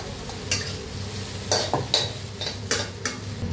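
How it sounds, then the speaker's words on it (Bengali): Soybean chunks fry in a pan while a spatula stirs them in several sharp, scraping strokes about half a second apart. A soft, steady sizzle runs underneath, close up and with no talking. "আমার সোয়াবিনও ভাজা হয়ে গেছে। বেশি লাল লাল করে ভাজিনি"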